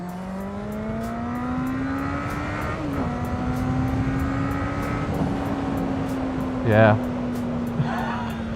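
A 2009 Suzuki GSX650F motorcycle engine drones steadily in traffic, its pitch creeping upward as it accelerates with a slight dip midway, continuous and fairly close, with a brief spoken word near the end.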